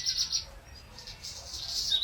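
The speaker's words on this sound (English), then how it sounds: "Just like the relaxing chirping of a bird." Bird chirping in quiet, soft repeated tweets rising and falling at low volume with a faint low background rumble, the song growing slightly busier toward the end.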